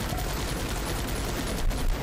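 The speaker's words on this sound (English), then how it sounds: "I want to do another carpet bomb." A carpet-bomb artillery barrage in the game Guns Up! fills the air with dense, continuous rumbling blasts and crackling fire that never let up.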